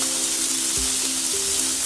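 Tomatoes hitting fried onions in a hot pan, a steady bright sizzle with a few soft thuds as pieces drop in, close and continuous for under two seconds.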